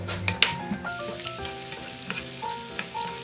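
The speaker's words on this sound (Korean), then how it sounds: "팬에 기름을 넉넉히 두르고 마늘을 익혀주세요" Sliced garlic fries in a generous pool of oil in a pan for abalone butter, giving a continuous close sizzle with a few sharp pops and light stirring scrapes, with no voices.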